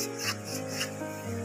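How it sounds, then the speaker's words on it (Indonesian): A manual hand saw cuts through small teak timber, giving a rhythmic rasping back-and-forth of several strokes, moderately quiet, with a steady tonal hum underneath. "Dipilih-pilih yang kecil-kecilnya oleh rekan saya ini menggunakan gergaji manual."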